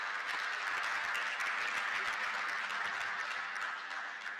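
Applause fills the House plenary chamber, a dense, even wash of many hands clapping at a distance and sustained throughout, with no voices above it.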